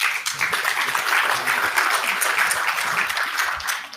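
An audience claps after a presentation at a metals conference session, a dense, sustained round of applause from a sizeable crowd, loud and even throughout with faint voices mixed in.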